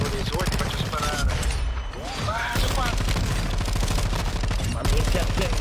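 Gunfire in an online shooter video game, rapid continuous machine-gun bursts, loud and dense, with brief gaps and voices talking over the shooting.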